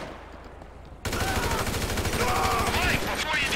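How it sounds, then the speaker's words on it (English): Rapid gunfire in Grand Theft Auto 5 breaks in abruptly after a quiet second, then rattles on as a dense, loud, continuous burst of shots with voices mixed in underneath. "We're receiving fire!"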